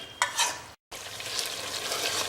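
Ground onion browning in a pan for chicken handi, a close, steady sizzle broken by a quick stir and a split-second gap.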